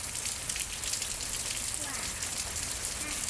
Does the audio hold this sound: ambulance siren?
no